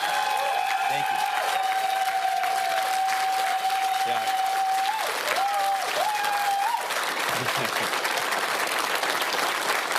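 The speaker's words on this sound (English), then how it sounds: "we can get a round of applause to every single candidate that ran for us" A crowd at an election-night event applauds the candidates, the clapping rising from a background murmur into a broad sustained ovation, while a voice carries on through the first half.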